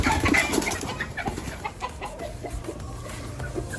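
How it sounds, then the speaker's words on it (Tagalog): Hens clucking in a backyard setting where gamecocks are kept, with irregular bird calls rising and falling over continuous farmyard background noise, fairly close and moderately loud, no talking. "Ito yung inahin."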